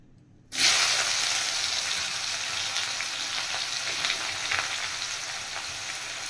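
Chopped onion dropped into hot oil bursts into a loud sizzle after a brief quiet moment, then settles into a steady frying hiss with occasional crackles.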